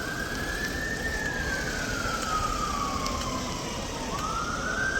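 Fire engine siren wailing during a Just Stop Oil march on Westminster, a loud, continuous rising and falling tone over heavy street noise, with no talking.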